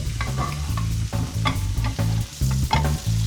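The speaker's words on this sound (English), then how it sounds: "So just going to baste it on both sides now." Jumbo tiger prawns frying in a pan while being basted, a loud close sizzle broken by regular pulsing scoops and splashes of hot fat, with light metallic taps.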